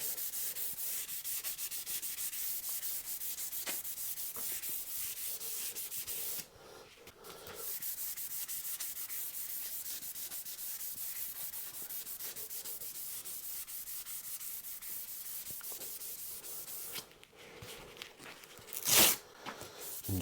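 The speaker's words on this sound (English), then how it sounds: "So I've just got a 600 sanding pad, and then I've got some 600, 800 and 1200 super acrylics." Soft, continuous rubbing of a 600 grit sanding pad over a Telecaster guitar's finish, a close, faint scratchy swish that pauses briefly and ends with a few louder handling knocks.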